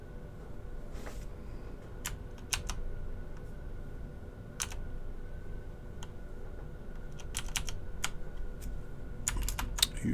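Scattered keystrokes tap on a computer keyboard in short irregular bursts over a steady low room hum, fairly close, with no one speaking.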